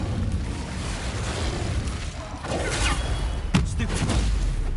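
Incendio fire spell cast in Hogwarts Legacy, a roaring whoosh of flame with booming bursts and a sharp crackling blast partway through, loud over a rumbling battle background.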